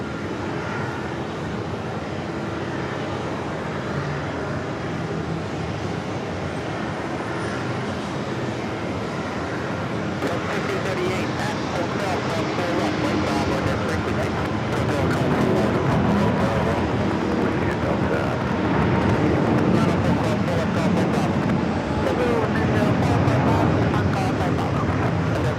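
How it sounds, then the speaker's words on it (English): A Lufthansa Airbus A380 rolls down the runway at New York's JFK, its broad engine roar building steadily over the clip from a distance, with faint wind buffeting around the microphone. "Lufthansa A380 Super rolling down to 4 left"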